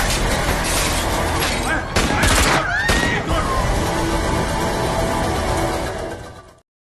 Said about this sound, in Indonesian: penembak jitu mengarahkan peluru tepat di kepala salah satu teroris